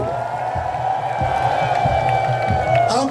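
Rally crowd ululating and cheering in a steady, dense roar, with a sustained high trilling tone running throughout and scattered shouts rising near the end.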